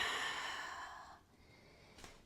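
A single soft exhale during a gentle yoga forward fold, breathy and fading over about a second, followed by quiet room tone and a faint brief sniff.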